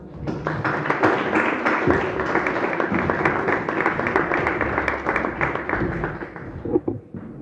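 An audience at a poetry reading event in Torrejón applauds steadily for several seconds, a dense, even wash of many hands clapping close by, tapering slightly at the end.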